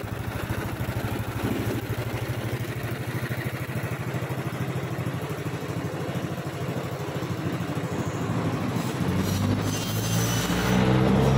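Several motorcycle engines idle together in a repair shop, a dense, close, continuous rumble with rapid rhythmic firing pulses that swells slightly louder near the end.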